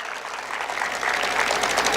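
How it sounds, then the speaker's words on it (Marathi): Dense, steady applause from a large seated audience at a Marathi talk on Maharaj's history, a close wash of many hands clapping that swells slightly toward the end. "टाळ्या वाजवल्या तर मनापासून वाजवायच्या"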